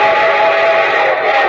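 A steady, loud train whistle blows over the rumble of a passing train, a radio sound effect heralding a show train, continuous for under two seconds with no voices.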